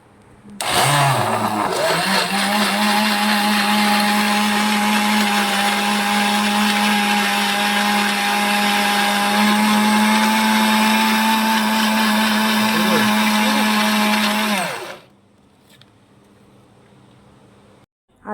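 A blender grinds thandai paste with milk and a little coffee, a loud, steady motor whir running for about fourteen seconds after a brief start-up, then winding down abruptly into quiet.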